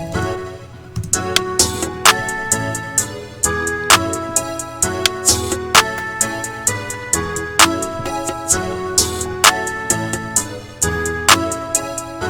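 A punchy electronic hip-hop beat, with kicks and sharp snares under a repeating synth melody, loud and steady throughout.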